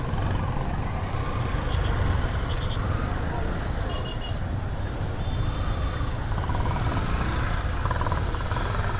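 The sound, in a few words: traffic jam on a bridge, cars and bikes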